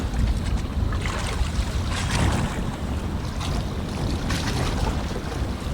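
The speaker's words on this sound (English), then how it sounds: "I don't know if you guys can hear the wind" Strong wind buffets a fishing boat out at sea during a passing hurricane, roaring gusts and microphone rumble over the wash of waves, with no talk.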